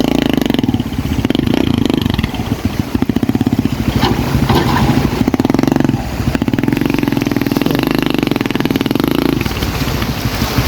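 Motorcycle-powered tricycle straining through mud in heavy rain, its engine loud and close with rough revving and clattering, dipping and surging as it labours, with rain noise underneath.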